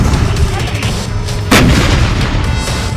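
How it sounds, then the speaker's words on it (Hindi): Artillery guns firing shells at targets in Gaza during the Israel–Hamas war, a continuous loud rumble of distant gunfire with a sharp, heavier blast about halfway through. "और फिर तोपों से उन टारगेट पर निशाना लगाता है"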